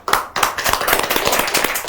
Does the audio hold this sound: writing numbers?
no